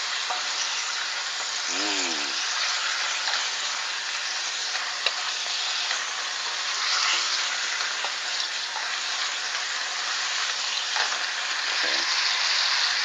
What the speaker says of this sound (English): Add just a pinch of water. This is going to steam a little bit and make a little bit of liquid here.